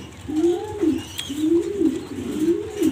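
A domestic pigeon, a hen feeding her young, gives three rhythmic, close, fairly loud cooing phrases in succession, each a rolling low coo, with no talking.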